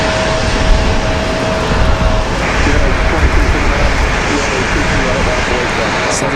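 Delta CRJ jet airliner on approach in strong wind at Raleigh Durham, a loud, steady jet roar mixed with heavy wind buffeting on the microphone, with a voice talking over it.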